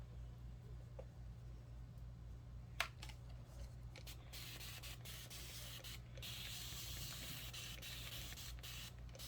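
A misting bottle sprays Best Press onto quilted fabric during pressing, giving a soft, steady hiss over a low constant hum, with one sharp click of the trigger partway through.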